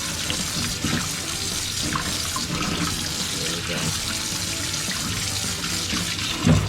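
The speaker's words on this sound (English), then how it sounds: "Put some water in it. Move them around. Make sure they get covered with water too." Tap water runs steadily into a bowl of cut potatoes in a home kitchen, a loud continuous splashing stream with a small knock near the end.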